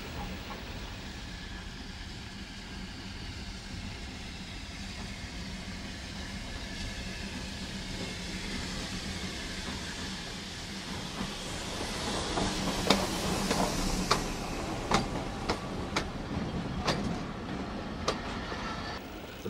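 Khyber Mail train crossing the bridge over the Indus River at Attock at daybreak, a steady low rumble of wagons that swells after the midpoint into louder rhythmic clanks and sharp metallic clacks, heard alone with no voices.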